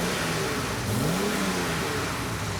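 Engine of a restored 1949 Humber Pullman limousine runs steadily with a smooth mid-range rev rise and fall, loud and close, with no voices.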